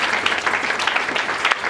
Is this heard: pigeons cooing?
no